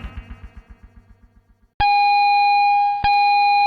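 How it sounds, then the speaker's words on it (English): An electronic school bell rings loud and clear in two separate bursts with a pause between them, each sustained and ringing, following a rhythmic low pulsing beforehand. "that bell might signal the start or stop of yet another school day"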